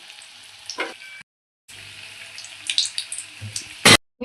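Homemade vegetable chops sizzle in hot oil in a steady hiss that cuts out briefly, then resumes with crackling pops and a loud scrape of a utensil near the end.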